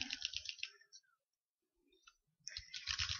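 Keys pressed on a laptop keyboard during a keyboard test, heard as rapid close clicking bursts at the start and again at the end, with a quiet pause between and no talk.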